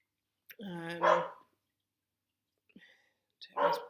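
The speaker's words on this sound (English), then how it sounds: "barking at birds, so just mind the background noise" A dog gives a drawn-out bark or howl, then after a pause a second short bark, loud and close, with silence between.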